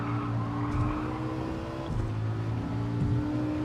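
Race car engine in a racing video game, a steady high-pitched sustained drone at constant revs with slight pitch wobble, loud and continuous with no talk.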